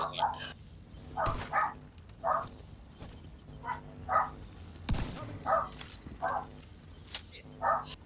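A dog barks repeatedly at the door, a series of sharp, evenly spaced barks close to the microphone, interleaved with people talking.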